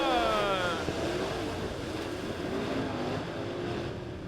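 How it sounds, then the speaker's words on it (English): Dirt track race cars at Springfield Raceway roar off after the green flag in a heat race, a continuous loud engine drone with shifting pitch, wind noise on the microphone and a faint voice under it. "Green flag in the air. We're racing."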